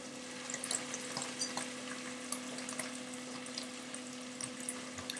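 White wine poured into a hot pan to deglaze it gives a steady sizzle with scattered crackles and pops and a constant low hum underneath, heard alone without voices.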